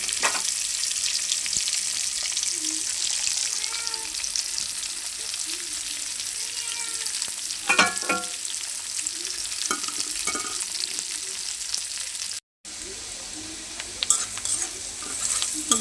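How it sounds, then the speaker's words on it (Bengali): Leafy greens from a home garden frying and being stirred with spices in a pan, a steady close sizzle with scraping and clinking of a spatula against the pan throughout, with a brief gap near the end and no talk. "সব মশলা দিয়ে আমি কষাই নিছি, এখন শাকগুলি দিয়ে দেবো। শাকগুলি দিয়ে ভালো করে কষাই নিব।"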